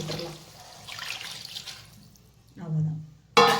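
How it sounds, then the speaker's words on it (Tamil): Water pours into a pot of drumstick sambar with a short, close splashing gurgle that builds and fades. Talk and kitchen clatter surround it. "இப்போ இந்த தண்ணியை நம்ம இதில் விட்டுடலாம்."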